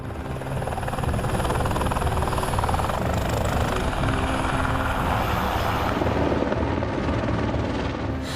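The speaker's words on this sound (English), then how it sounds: "There's just helicopters everywhere, and they're flying in and out all day" Steady, loud rotor drone of a helicopter fills the whole clip, a continuous low throbbing roar with no break.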